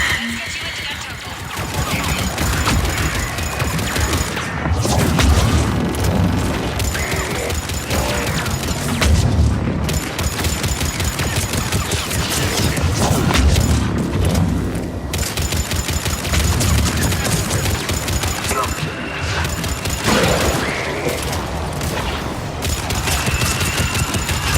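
A gunship's missile strikes in the video game Mass Effect 3: repeated heavy booms and crashing explosions mixed with bursts of gunfire, loud and sustained throughout, with voices speaking over the battle noise.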